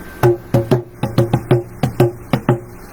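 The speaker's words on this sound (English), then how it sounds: "bongo solo there" Bongo drums played in a short solo, about ten crisp, resonant hand strikes in an uneven rhythm, close and loud with no voices.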